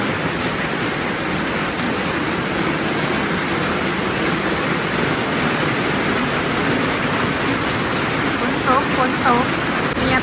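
Rain falling steadily on a rainy day in rural Thailand, a dense continuous hiss and patter close by that stays even throughout, with faint other sounds showing briefly near the end.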